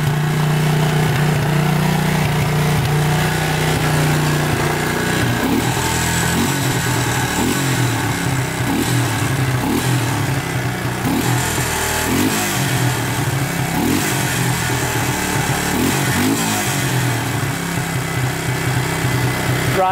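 A cheap used 4x4 ATV engine runs steadily and loud for the whole stretch, its revs rising and falling in repeated throttle blips over a constant rough idle.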